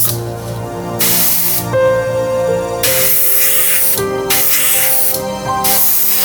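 An airbrush sprays gold paint onto toy teeth in several loud, close hissing bursts separated by short pauses.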